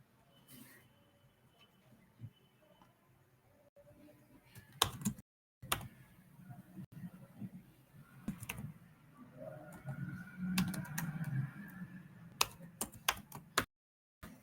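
Someone types on a computer keyboard in short uneven bursts of close, sharp key clicks, with a few quieter stretches and faint background noise between them.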